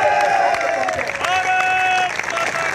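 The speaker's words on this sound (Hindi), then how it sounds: "आपकी तालियों की गूंज बंद नहीं होनी चाहिए।" Crowd applause at an outdoor rally or stage gathering with saints present, dense sustained clapping filling the whole stretch, with whistles and cheering tones riding over it.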